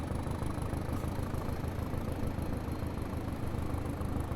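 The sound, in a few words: Class 205 diesel train engine in Train Simulator Classic video game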